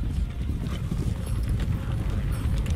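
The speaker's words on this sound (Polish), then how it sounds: "Nilfgaardzki koń bojowy." Hooves of a Nilfgaardian war horse clip-clop in a steady, dense rhythm as riders approach in The Witcher 3: Wild Hunt, close and continuous with a low rumbling background.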